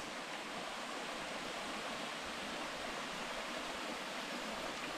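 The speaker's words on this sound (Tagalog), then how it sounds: "There's a small waterfalls." A small waterfall on Bohol near Panglao pours steadily as a continuous broadband rush and hiss, even and unbroken, with no voices over it.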